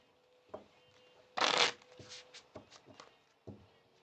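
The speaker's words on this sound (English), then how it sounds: "we're going to move this over here so that I can give these a little bit of a shuffle" A deck of tarot cards being shuffled: a dense burst of riffling around the middle, then several short, soft card taps and slides, close and fairly quiet with no talk.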